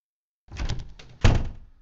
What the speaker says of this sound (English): I forgot she can hear the sound of doors